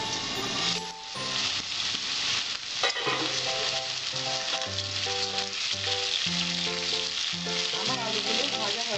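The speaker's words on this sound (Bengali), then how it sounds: "আমার আলুগুলো ভাজা হয়েছে, আমি আলুগুলো তুলে নিচ্ছি।" Potatoes frying in a pan make a steady, close sizzle beneath continuous melodic background music throughout.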